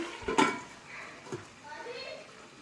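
A lid set down on a cooking pan while chicken is being cooked, giving a single sharp metallic clank near the start and then a softer knock, under quiet kitchen background.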